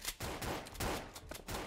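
A few quick gunshots in a multiplayer minigame in Minigame Game, faint broadband cracks in uneven rhythm with no talk.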